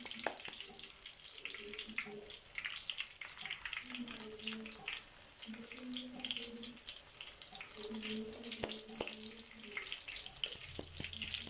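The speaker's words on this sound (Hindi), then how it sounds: "आप इसको डाल दीजिए तवे पर या आप इनको फ्राइंग पैन में भी फ्राई कर सकते हैं" Chapli kebabs shallow-fry on a tawa over medium heat, a steady close sizzle and crackle running evenly throughout, with faint splashy water-like hiss mixed in.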